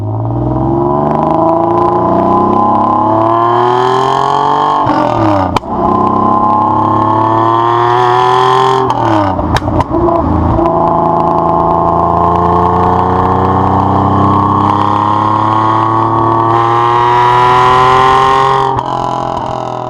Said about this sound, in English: It sounds distinguished, but with this grumble and growl that you'd never expect a straight six to produce.